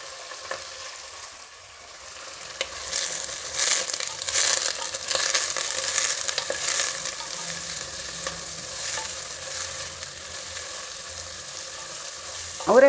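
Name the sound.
frying avarekalu (field beans) in oil for pulao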